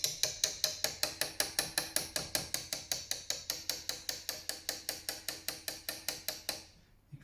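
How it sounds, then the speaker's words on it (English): Someone taps the side of a steel chisel against timber while squaring a corner on glued moulding, about thirty-five quick, even, sharp knocks in a steady rhythm, close and crisp, ending in silence. "just tapping the side of a chisel, that's not too bad"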